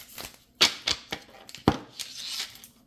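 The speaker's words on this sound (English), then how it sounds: "Let me split it and shuffle them because, like I said, it's too much to shuffle." Crisp clicking and flapping bursts of a thick, new 78-card tarot deck being shuffled in split portions, irregular snaps close by with no talking.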